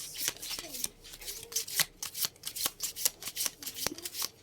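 Tarot cards shuffled briskly by hand before one is drawn: rapid, repeated papery riffles and slaps in an uneven rhythm, close up, with faint talk in the background.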